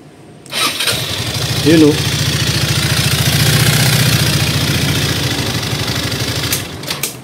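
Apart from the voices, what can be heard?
Motorstar Easyride 150fi motorcycle engine starting and idling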